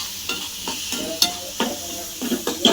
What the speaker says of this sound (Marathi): हळद टाकले एक चम्मच त्याने जरा चांगलं परतून घेते बघा आपला कांदा लसूण